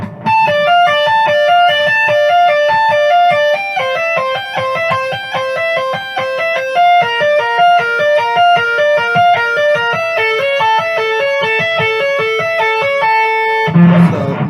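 Distorted electric guitar finger-taps major chord shapes slowly, a continuous stream of rapid legato notes cycling through arpeggio patterns, loud and near, ending on a held note with no talking.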